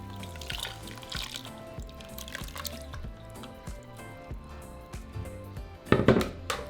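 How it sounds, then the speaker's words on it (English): Chile sauce pours over pork shoulder inside an Instant Pot, a close liquid splashing and dripping that runs unevenly over several seconds and ends in a louder burst of splatter. "So now we're just going to pour it over our meat."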